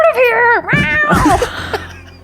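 A person voicing a tabaxi character imitates a cat with one loud, drawn-out, rising-and-falling meow, followed by softer breathy vocal noises that fade out.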